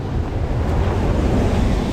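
Ocean waves breaking and surging continuously on a shore during sea bass fishing, a loud, steady wash of surf with wind buffeting the microphone throughout.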